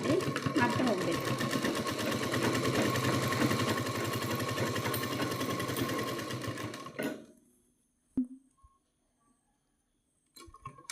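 A sewing machine runs loudly and steadily for about seven seconds as it stitches along a line on a blouse seam, then stops, leaving near silence broken by a soft thump and faint handling.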